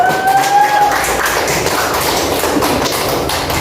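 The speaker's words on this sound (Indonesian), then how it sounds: "Tepuk tangan Mas Adit dan kawan-kawan" Classroom applause for a student group, a steady dense patter of many hands clapping close by for several seconds, with faint voices briefly in the background.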